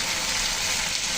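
Water poured into a curry simmering in a pan, a loud, continuous close-up rush and hiss with a steady bubbling sizzle, unbroken and without talk.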